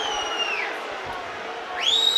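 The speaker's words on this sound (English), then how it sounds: "you can hear what the crowd think of that" Football crowd at a Wrexham versus Huddersfield Town match reacting after a referee gives a foul for a hard tackle, a steady roar punctuated by two sharp whistles at the start and end.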